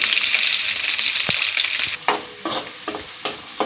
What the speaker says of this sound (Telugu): ఆయిల్ వేడెక్కినాక ఉల్లిగడ్డ వేసుకోవాలి